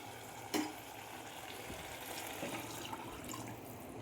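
Water runs and splashes steadily into a pot for cooking chicken pasta for several seconds, with a brief clatter near the start and faint kitchen clinks.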